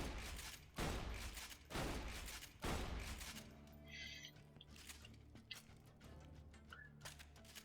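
Bandit shotgun in Borderlands 2 firing in bursts, three sharp booming blasts spaced about a second apart, followed by quieter clicks and reload mechanics over a low hum.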